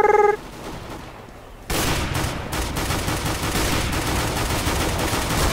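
Rapid gunfire in CS:GO bursts in loud and dense after a brief quiet stretch, a sustained rattle of close automatic shots with no talking.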